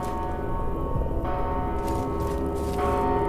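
A bell in the dark fantasy game Mortal Shell rings on and on, its sustained tones layered over a steady background hum, with new strikes refreshing the ring at intervals.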